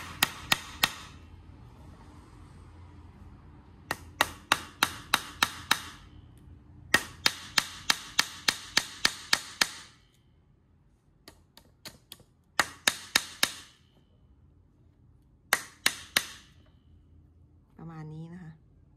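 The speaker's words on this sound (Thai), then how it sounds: "นี่คือวงที่ใหญ่นะคะเราจะตอกตะปูลงไปเลยให้ทะลุเลยนะคะ" Hammer blows drive nails through artificial rattan rings of a woven tray, sharp metallic knocks in quick bursts of several strikes separated by pauses, with someone speaking softly between them.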